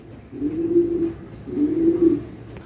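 Pigeons cooing close by, two low, soft, drawn-out coos separated by a short pause, with faint background noise.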